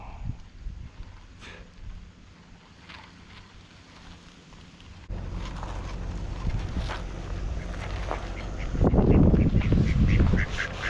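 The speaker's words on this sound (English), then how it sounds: "Hey, ducks." Ducks quack in bursts over outdoor background noise, the calls growing louder and busier toward the end.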